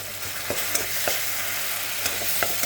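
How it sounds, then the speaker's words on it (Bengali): Green beans fry in mustard oil in a pan, giving a steady, close sizzle broken by a few sharp clicks of stirring, with no voices. "সর্ষের তেল দিয়ে কিন্তু ভাজতে হবে"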